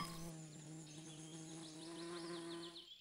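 An animated cartoon bee buzzes near cakes at a party, a high, wavering drone that swoops in pitch as it flies about, heard alone.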